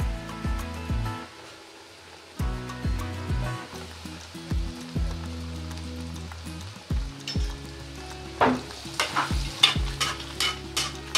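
KFC-style spicy crispy chicken deep-frying in hot oil, a steady bubbling sizzle broken by clattering stirs and utensil knocks, with louder crackling bursts near the end.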